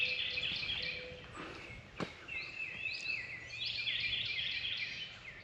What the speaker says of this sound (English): Hardly any road noise, but all kinds of bird song.